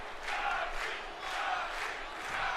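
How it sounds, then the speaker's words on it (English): Wrestling crowd at a WWE arena chanting "Shotzi" before Shotzi faces Sasha Banks, a broad roar swelling and falling in a steady two-beat chant rhythm, dense and distant-sounding throughout. "the crowd is chanting "Shotzi, Shotzi" here"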